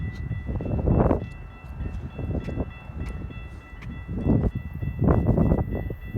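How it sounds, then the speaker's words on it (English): An Amtrak passenger train rumbles past at a railfan gathering in Glenview, with rolling low-frequency noise that swells in several loud surges, the horn sounding over the steady clatter of the cars. "It's gonna be another Amtrak. I can tell by the horn."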